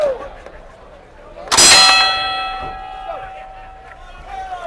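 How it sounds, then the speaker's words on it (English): Boxing ring bell opening round three of an IBF super flyweight title fight, Julio Cesar Borboa vs. Carlos Mercado: a single loud metallic clang with a long ringing decay, under a ringside commentator talking. "as Borboa, the champion, comes out to open the bell of round three, in control over the challenger, Mercado."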